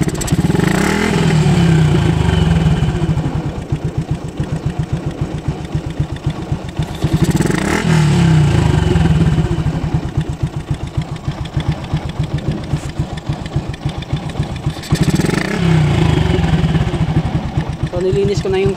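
A Yamaha Sniper MX135 motorcycle engine runs close by with a rough, snoring-like rasp, rising and falling in three long surges over a steady rhythmic idle.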